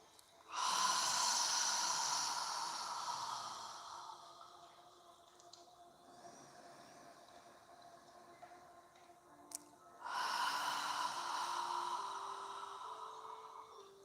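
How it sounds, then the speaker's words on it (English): Two long, audible yoga exhales with air pushed against the back of the throat, like fogging a mirror, each a breathy rushing hiss lasting several seconds, close and fairly soft, separated by a quiet pause. "The air is moving against the back of your throat on the exhale."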